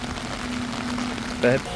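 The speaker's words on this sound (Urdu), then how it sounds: "بارش چیک کریں بھائی، کتنی مزیدار بارش ہو رہی ہے" Heavy rain falling outside a shed, a steady soft hiss of drops on surfaces, with a short burst of speech near the end.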